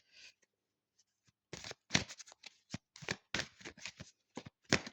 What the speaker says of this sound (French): je vais prendre une petite carte de mon oracle